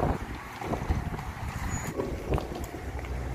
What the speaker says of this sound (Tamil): நல்லா காற்று அடிக்குது